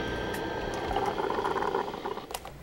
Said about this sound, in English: the noise you're hearing is the sound of air and gastric juices all burbling around in the small